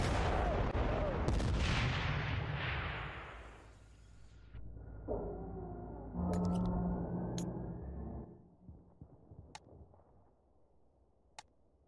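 A bomb drop and artillery explosions in Battlefield: Bad Company: a heavy blast rumbles and fades, a rising whine follows, then another burst and scattered sharp cracks trail off in the distance.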